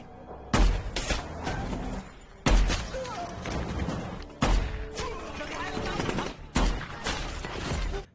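Artillery and gunfire in a sniper film, enemy troops shelling in every direction: four heavy booming blasts about two seconds apart, each followed by a long rumbling, debris-filled tail, loud and continuous throughout.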